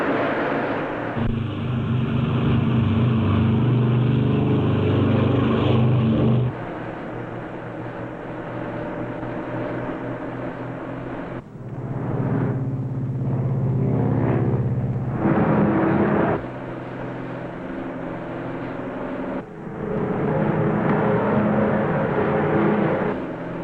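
Piston engines of a 1953 Eastern Air Lines Lockheed L-1049 Super Constellation airliner run at takeoff power, a loud, continuous droning roar that swells and eases in long stretches, with no talk.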